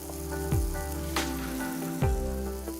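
Spices (salt, turmeric and red chili powder) dropped into hot oil for a Gujarati sev tamatar sabzi give a steady close sizzle, with a few brief bursts and clinks, and no voices.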